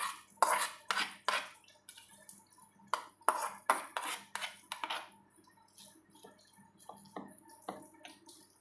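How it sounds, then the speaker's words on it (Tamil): Tempering is poured into onion leaf chutney and stirred, giving a quick run of clinking spoon and vessel sounds and light sizzling, close and faint, easing into scattered taps. "இப்போ நம்ம தாளிப்பை இது கூட கொட்டிக்கலாங்க."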